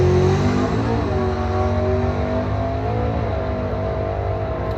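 A drag race car accelerates hard on nitrous during Street Trophy racing at the Bowtie Challenge. Its engine gives a loud, sustained roar that climbs steadily in pitch with no pauses.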